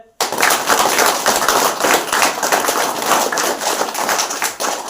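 A crowd of teachers, parents and children at a school event claps loudly, a dense, sustained burst of applause that starts abruptly and keeps going without pause.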